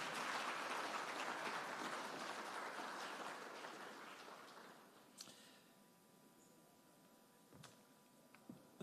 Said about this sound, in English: I think that panel discussion deserves another round of applause.